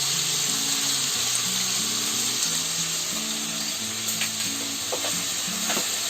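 Chicken sizzles steadily in hot oil in a pan after ginger-garlic paste goes in, with spoon stirring scrapes and a faint tap or water sound behind, continuous and close with no talking.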